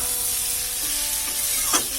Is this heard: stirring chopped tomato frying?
yes